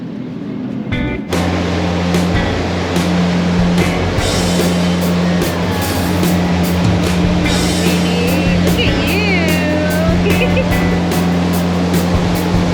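A boat engine starts abruptly and then runs at a steady, loud cruising drone on Lake Havasu, with wind and water rush and intermittent knocks over it.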